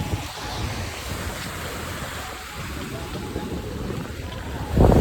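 Sea waves wash steadily against a seawall at Fort Kochi beach in Kerala, a continuous broadband roar with wind buffeting the microphone and a louder surge at the end.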